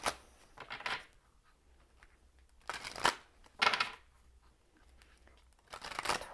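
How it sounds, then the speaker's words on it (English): A deck of tarot cards being shuffled up close in several separate bursts of riffling and sliding, with quiet pauses in between and no talk. "I'm just going to shuffle a little bit more"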